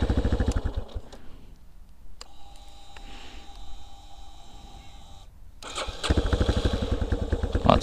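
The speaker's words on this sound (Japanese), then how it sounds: "とりあえずエンジンのかかりは悪くないし、" Yamaha Tricker motorcycle after a spark plug change: the engine idles with a steady chug, falls quiet for a few seconds, then fires up again and runs loudly nearby.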